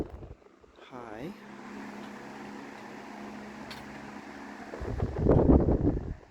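An Emerson 77648-AS 16-inch oscillating desk fan running on high gives a steady close whooshing airflow hum, with a gust of louder rushing air near the end and no speech.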